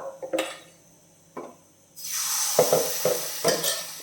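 Appam batter hits a hot pan with a sudden, steady sizzle, and the pan is swirled with several light scraping and clinking knocks; a few faint metallic taps come before the pour.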